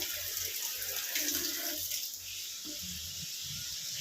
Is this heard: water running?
yes